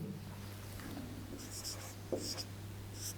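Writing on a board during a music class on tala notation, a few faint scratchy strokes over a low steady hum, with no talk.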